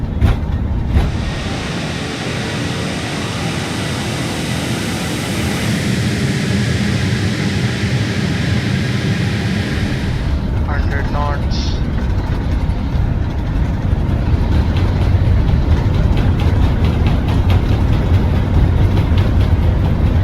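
Four-engine Singapore Airlines A380 spooling up for takeoff in a flight simulator, a broad steady roar that holds loud and continuous throughout, deepening and building slightly toward the end, with no talk over it.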